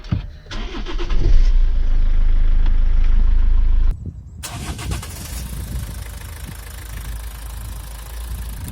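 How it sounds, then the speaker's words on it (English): A car with a dead battery, jump-started with leads, cranks loudly for about three seconds, then catches and settles into a steady, close idle. "The next thing to do is to start the engine from the car with the bad battery."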